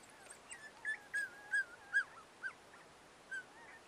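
Wild dog pups about 15 days old whimpering, a series of about six thin, high, short whines spaced evenly and close by over a quiet background.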